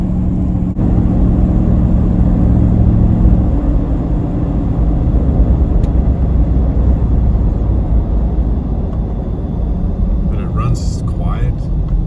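Jeep JK with a swapped Hemi V8 and a suspected exhaust leak at a collector bolt drives along with a loud, steady low engine rumble, someone talking over it throughout.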